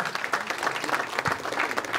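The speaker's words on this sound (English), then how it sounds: "Give him a round of applause" A crowd at a fight event applauds in a brief burst of quick, moderately loud claps that stays fairly even.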